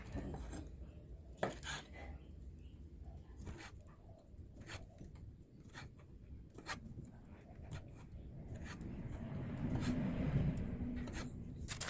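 A knife chopping sausage taps repeatedly on a cutting board, irregular quiet chops spread over several seconds against a faint background hum.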